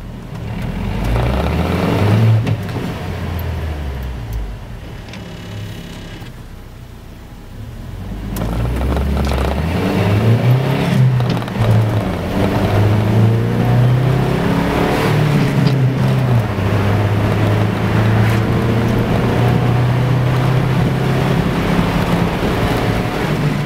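A 2016 UAZ Hunter accelerating, a loud rumbling engine and road roar building steadily over twenty seconds with a brief dip partway, heard from inside the vehicle.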